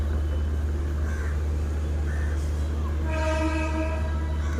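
A train at a railway station, its low rumble steady throughout, with a loud horn sounding near the end; the scene is close and noisy.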